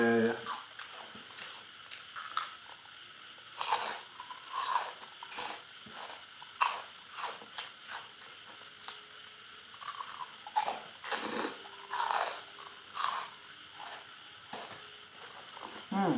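Crispy fried pork rinds (khaep mu) crunched and chewed close up in a run of irregular sharp bursts, with pauses between bites.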